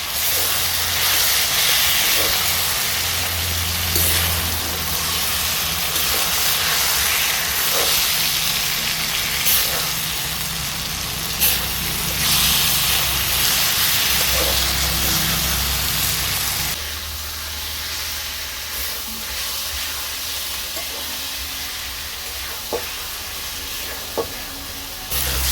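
A taro stolon curry with jackfruit seeds cooks over the heat, steady close sizzling and hissing with scattered stirring clicks that drops to a quieter simmer partway through.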